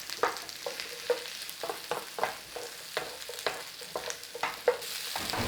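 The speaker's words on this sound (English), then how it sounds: "Oh, you can hear that sizzle in there." Green peppers sizzle and crackle in a hot frying pan, with repeated scraping stirs at an uneven rhythm, close and fairly quiet.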